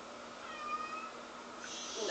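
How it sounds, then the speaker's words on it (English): A cat in a quiet indoor room gives a soft, drawn-out meow, with a brief higher cry near the end; it is faint against steady background hiss, and no one talks. "The cat said meow."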